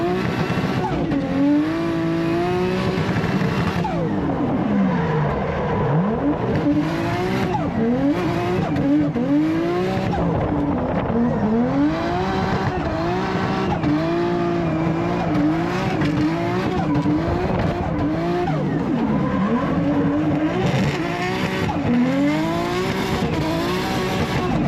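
A Nissan R33 and a Lexus IS300 drift on the Calder Park track in Australia, engines revving hard and wavering through bouncing gear changes, with tires squealing almost continuously, loud and close for the whole stretch.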